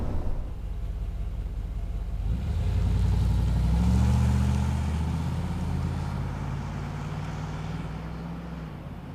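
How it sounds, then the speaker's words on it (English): A Dodge Xplorer XLW 230 camper van with its stock exhaust drives past, a loud low engine rumble that swells as it nears and fades away, with no voices. "do a couple drive-bys with the GoPro going and see if I can get you some sound with the stock exhaust"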